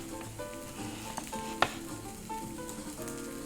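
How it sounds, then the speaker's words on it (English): Food fries in hot oil with a steady sizzle close by, broken by a few soft stirring clinks and one brief sharp tap in the middle. "Oh, the sizzle."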